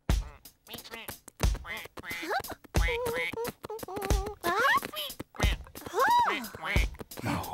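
Several loud duck quacks sound in quick irregular bursts, close by, with scuffling noises between them.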